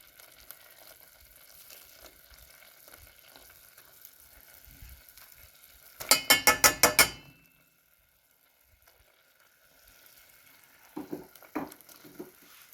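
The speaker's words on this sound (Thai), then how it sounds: "จะคนก่อนนะคะ" A pot of Thai fish-entrail curry with southern curry paste dissolving in a little water is stirred, giving a brief run of rapid scraping clinks in the middle over faint simmering, then a few soft knocks near the end, with no talk.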